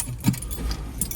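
Car keys jangle close by in a few light metallic shakes, quiet against a faint background hum of a car at a carwash.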